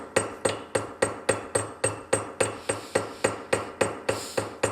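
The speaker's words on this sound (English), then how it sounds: "Just let the weight of the hammer work for you." A hammer strikes wire while riveting jewelry, fifteen or so evenly spaced, sharp metallic taps in a steady rhythm, close and clear with no talking.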